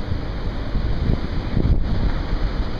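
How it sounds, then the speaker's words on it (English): Loud, steady wind roars over the microphone along a rough coastline in the aftermath of Hurricane Earl, with rolling, whitecapped waves crashing in the background. "the waves and the wind and those whitecaps from these rolling waves still look pretty intense"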